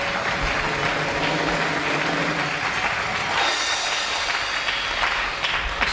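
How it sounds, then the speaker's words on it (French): A church congregation applauding, a dense, sustained clapping from many people that fills the room evenly for the whole stretch. "Nous acclamons très fort pour le Père."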